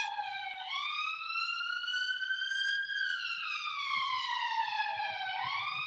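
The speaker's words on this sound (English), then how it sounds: "Excuse all the sirens, guys." An emergency vehicle siren wails in Hackney, London, its pitch sweeping up and down in long slow cycles, clear and steady with no voices over it.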